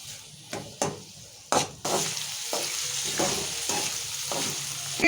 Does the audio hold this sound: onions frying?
yes